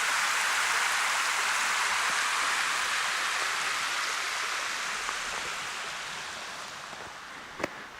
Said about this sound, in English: Spillway here at Seneca Lake.